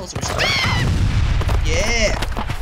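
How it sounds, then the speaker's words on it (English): Exploding sheep weapon in the Worms Reloaded video game, heard as a few loud booming blasts with rising and falling whistling game effects between them. "it's a sheep that explodes a few times"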